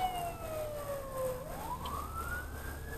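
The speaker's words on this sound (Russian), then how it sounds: "И сразу скорая. А, это пожарная." A fire engine siren wails in a quiet street, its pitch sliding down and then rising again in one long sweep. It sounds somewhat distant over a low traffic rumble.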